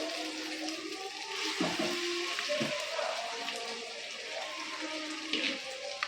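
Spices tempering in hot oil for a mango pickle give a steady close sizzle and bubbling hiss, with a few soft knocks of a utensil.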